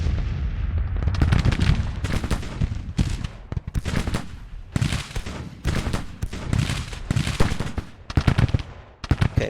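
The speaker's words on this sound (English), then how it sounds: "Now that guy is in range of my Mississippi rifles." Mississippi rifles firing in a Grand Tactician battle: dense, rapid crackling volleys of musketry that roll on without pause and swell and fade in loud waves, with no talking.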